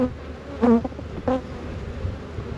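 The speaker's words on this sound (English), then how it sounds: "It's got a lot of bees, a lot of nurse bees" Close honeybee buzzing hums throughout, with two brief louder swells as nurse bees are shaken off a hive frame, no talking.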